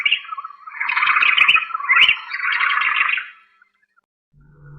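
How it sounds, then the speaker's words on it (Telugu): Birds call loudly and continuously at dawn, a dense, harsh chorus of chirps and squawks lasting a few seconds before cutting out, followed by a low hum. "పక్షులు ఆకలితో అరుస్తున్నాయి."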